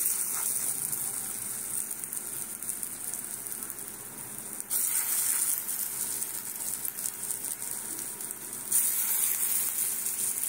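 Chickpea lentil kebabs shallow-frying in a little oil in a pan, a soft continuous crackling sizzle that grows slightly louder in steps, with no talking.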